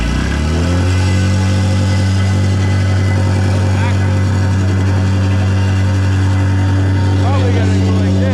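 Milwaukee MX Fuel battery-powered plate compactor running with a loud, steady low drone and strong harmonic hum throughout, rising slightly after the first second, with no speech.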